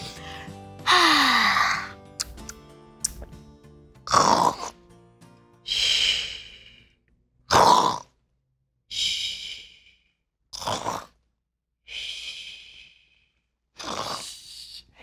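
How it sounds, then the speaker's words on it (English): A person lies resting and snores in a playful, exaggerated way, with about nine loud, drawn-out breaths and snorts repeating at a slow, steady rhythm with short silences between them. "It sounds like she's snoring."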